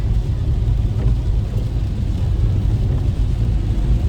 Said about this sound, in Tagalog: Tingnan nyo ang traffic sa kabila, yung daan. Sobrang traffic.